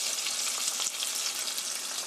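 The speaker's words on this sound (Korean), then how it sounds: "이렇게 해서 앞뒤가 노릇노릇하게 구워주세요." Chicken steak sizzles steadily in a hot pan, a dense, even frying hiss that carries on without a break and with no voices.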